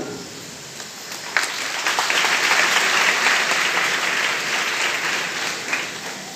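Sustained applause from an audience, a dense even wash of clapping that swells slightly and holds steady for several seconds, fairly close.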